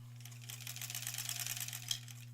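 A sewing machine stitching quilt blocks for an Aurifil quilt runs in a steady, rapid mechanical patter throughout, with a constant low motor hum beneath, close and fairly quiet.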